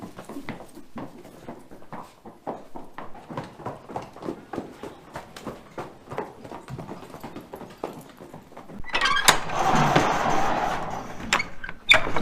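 Horses' hooves clip-clop in a steady run of close, irregular beats as the animals are let in, with a louder rustling burst of movement near the end.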